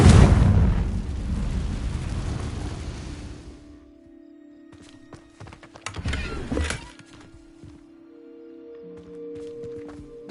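A Confringo blasting spell in Hogwarts Legacy erupts in a loud rumbling explosion that fades over about four seconds, followed by a smaller crackling burst and quiet ambient tones.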